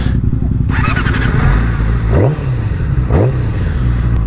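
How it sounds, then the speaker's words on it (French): A 2007 road-legal Yamaha R6 sport motorcycle, used now and then on track, fires up and settles into a loud, close idle, then gets two quick throttle blips that rise and fall sharply. "Allez c'est parti, on démarre le monstre."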